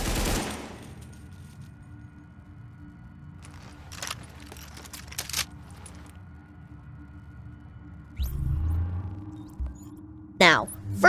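AK-47 fire in the video game The Division, a black market version of the rifle: a few sharp, isolated shots ring out over a low steady hum, with a louder burst near the end.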